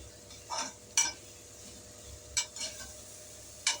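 Ingredients for mutton biryani, with chopped coriander just added, are sautéed in a pot: a quiet room with a few sparse spoon clinks and scrapes against the metal, spaced irregularly over a faint low background.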